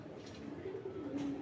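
Khaki pigeons coo softly over a constant background hiss, a short low warble rising toward the end of the brief stretch.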